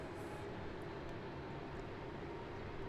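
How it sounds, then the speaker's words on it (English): Boeing 777-300 engines winding down on approach in Microsoft Flight Simulator: a soft, continuous low jet rumble with airy hiss, faint and steady. "You can hear the engines wind down as we come down."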